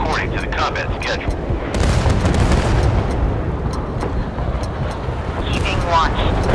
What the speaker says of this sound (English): Fire at the enemy.